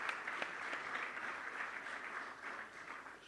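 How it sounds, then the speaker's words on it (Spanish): Applause from an audience at a political debate event in Argentina, steady dense clapping that stays fairly even and moderately distant for the whole stretch, with no talking over it. "Un aplauso para Sabino."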